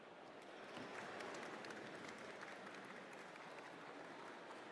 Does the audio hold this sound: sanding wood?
no